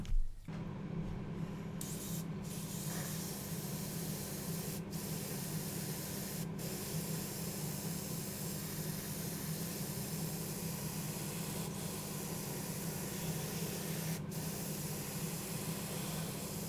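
A Tamiya X22 clear coat is airbrushed onto a 1/32 Kotare Spitfire Mk1a scale model: a short burst opens a steady, close, even spray hiss that runs unbroken for about sixteen seconds, with no voices.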